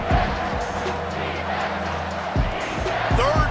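Stadium crowd in a football video game roars steadily on a third down, a sustained loud wash of cheering with bursts of louder swells, under a game commentator's voice.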